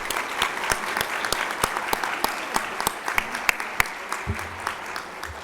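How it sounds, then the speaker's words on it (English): Audience applause for award recipients at a nursing education awards presentation, a steady patter of many hands clapping with a few sharper claps standing out, fairly distant in a large hall, with a faint low voice near the end. "let's give a big round of applause to these award recipients"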